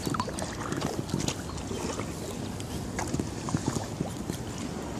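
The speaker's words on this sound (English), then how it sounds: "gonna have another try at the paddling" Kayak paddling across flooded ground, with steady water splashing and dripping under broadband wind noise buffeting the microphone throughout.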